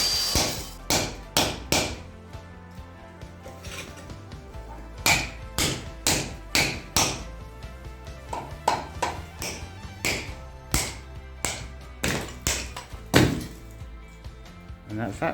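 Hammer blows strike a wooden door frame during dusty renovation work, a long series of sharp, irregular knocks and thuds at close range, with some pauses between bursts.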